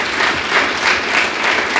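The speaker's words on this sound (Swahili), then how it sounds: "naomba mpige makofi mengine mengi kabisa kwa Bwana Mpemba" An audience at a DIT Songwe technical institute event breaks into applause, a loud, dense and sustained clapping that fills the whole moment.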